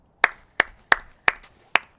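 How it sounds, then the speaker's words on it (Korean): Five sharp, evenly spaced hand claps ring out one after another in a quiet village, each crisp and close, with silence between them. "이 조용한 마을에서는 박수 소리조차 큰 관심을 끈다는 것을 확인합니다."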